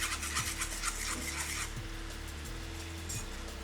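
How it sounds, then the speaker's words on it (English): A velouté sauce is whisked quickly in a pan, a rhythmic scraping swish repeating at a brisk, even pace, close and steady with no voices. "I'm going to whisk this really quickly."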